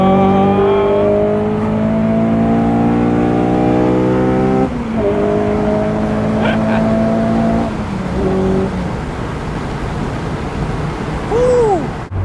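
A Honda S2000's VTEC engine, in a car set up for both track and road, revs hard and loud with a sustained high wail. Its pitch drops at gear changes twice, and a brief tire squeal follows near the end.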